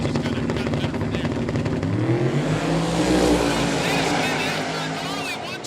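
A turbocharged Corvette drag car named Ruby roars at full throttle down the drag strip, its engine loud and steady while the pitch climbs through the run, with a voice partly under it.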